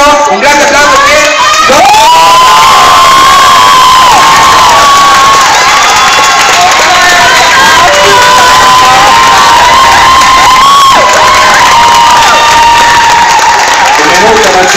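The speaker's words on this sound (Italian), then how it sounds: "3, 2, 1, un grande applauso per" Loud concert crowd at a show cheering, whistling and applauding in a sustained roar, with shouts and screams rising above the steady wash of clapping throughout.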